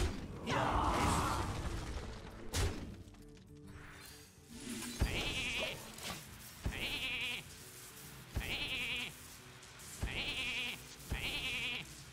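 Sheep bleats from the card game Hearthstone sound in a short series of repeated cries at regular intervals, mixed with other game effects and clicks.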